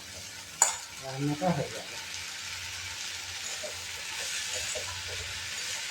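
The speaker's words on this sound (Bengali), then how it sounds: "এইভাবে নেড়ে নেড়ে 5 মিনিট রাখতে হবে।" Tomatoes frying in a pan while being stirred, giving a steady sizzle with a few louder scraping stirs near the start and a brief spoken phrase over the cooking.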